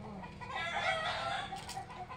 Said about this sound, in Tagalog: Ngayon yung mga ano natin, mayroon manok.